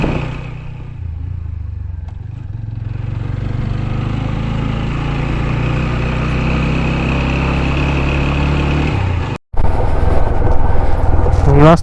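Vehicle engine rumbles and labours while off-roading along a rough jungle track near Tumsong Khasmahal in Darjeeling, with a steady low drone, a brief dropout near the end and then rattling.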